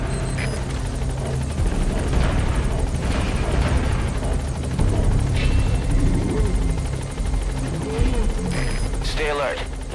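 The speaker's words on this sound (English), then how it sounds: "All right, the chopper's touching down." Helicopter from the game Metal Gear Solid V touching down at a landing zone, a steady loud rotor drone sustained throughout, with game radio voices and effects over it.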